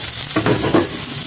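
Chopped capsicum stirred with onions in a hot pan, a short burst of sizzling with two quick stirring scrapes up close.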